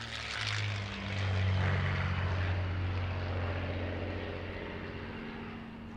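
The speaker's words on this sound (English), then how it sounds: "And this is the legendary Spitfire." Spitfire fighter's propeller engine droning steadily and close, swelling louder at the start then holding a deep, even hum, no voices.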